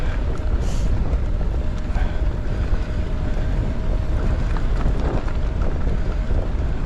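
Strong wind roars across the microphone on Cleeve Hill during an e-bike mountain ride, a loud continuous rushing buffet with no pauses.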